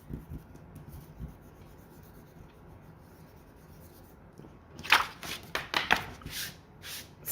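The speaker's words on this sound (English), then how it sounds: "then I'll erase everything and clean it up" Pencil eraser scrubbing over a graffiti bubble-letter drawing on paper: a few seconds of near quiet, then several short, scratchy rubbing strokes in quick succession, close and fairly soft.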